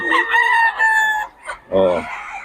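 A Lemon Sweater gamecock at Bocaue crows loudly and close, a drawn-out cock-a-doodle-doo followed by a short break and a second strong crow, with no talk over it.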